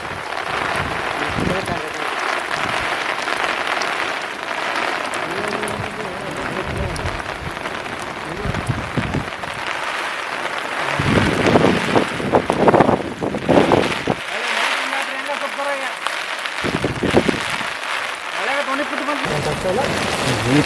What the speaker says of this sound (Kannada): ಇದು ಮಳೆ ಗಾಳಿ ಕೂಡ ಐತ್ರಿ